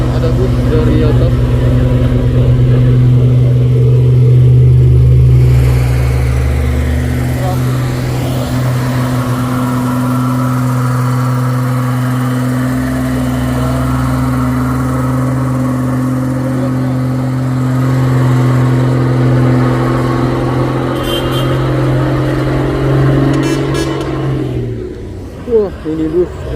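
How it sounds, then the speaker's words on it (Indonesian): A bus descends a hill road at Bukit Kodok among trucks, its engine a loud, steady droning rumble that holds for most of the stretch and fades near the end, with a voice talking over it. "Dan ada bus dari atas."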